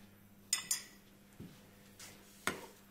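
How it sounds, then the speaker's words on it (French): Spoonfuls of olive oil going into a frying pan, heard as a few sharp metallic clinks of a spoon on the pan, spaced apart over a quiet low hum, close and faint. "je vais mettre 3 belles cuillères d'huile d'olive dans une poêle"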